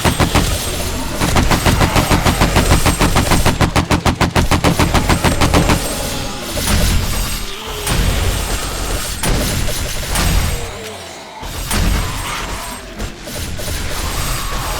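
Rapid bursts of automatic gunfire in the zombie survival game 7 Days to Die during a horde night, loud and dense at first, then scattered shots mixed with mechanical clanks and grinding from base traps.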